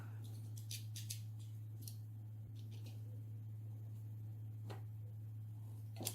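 Scissors trim a piece of card for a mini album, several short crisp snips and clicks spaced irregularly over a steady low electrical hum.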